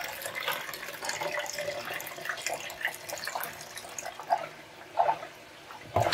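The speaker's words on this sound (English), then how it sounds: "Pour my now spent developer." Spent Kodak HC-110 film developer poured out of a LabBox daylight tank, a steady liquid splash and trickle running for several seconds before tapering into a few faint drips, close by with no voices.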